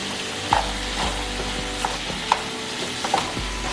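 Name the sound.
stirring carrots, onions and beef frying in a pan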